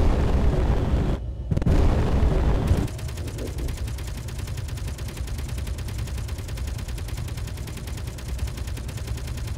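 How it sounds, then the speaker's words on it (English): Rapid, steady Gatling turret fire in Space Engineers, a dense continuous rattle of shots that starts after a couple of loud blasts and runs to the end at a constant level. "the Gatling turret is hitting it"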